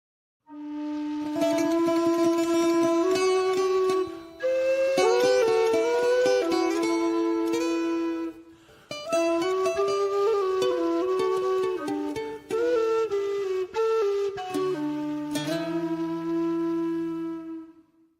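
Irish low whistle carries a sustained, flowing melody over Greek and Irish bouzouki accompaniment in a closing instrumental outro, steady and fairly loud throughout with no talking.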